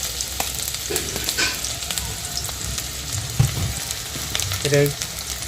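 Raw onion, a medium one cut into four pieces, sizzles steadily in a pan for an aloo bhuna, with a few brief stirring scrapes and clinks over the constant frying hiss.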